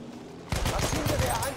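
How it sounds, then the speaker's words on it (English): Rifle fire in Battlefield 1, a burst of sharp repeated shots at close range, loud and dense, running without pause for over a second after a quiet lead-in. "Sniper trying to snipe me."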